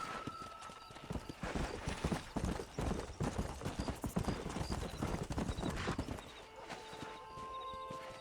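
Horse hooves gallop in rapid, rhythmic clip-clops across open ground in the Red Dead Redemption video game, loud and close for several seconds with a brief whinny, then easing to a quieter ambient bed.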